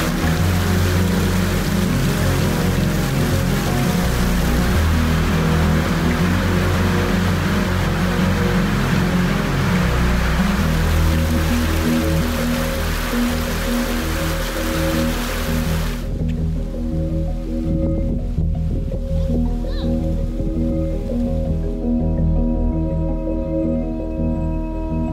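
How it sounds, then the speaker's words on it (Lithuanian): Tropical rain pours down steadily on an uninhabited island off Panama, a dense, loud, continuous hiss that holds for about sixteen seconds before falling abruptly to a quieter patter. "kitą jau tropinis lietus šniokščia"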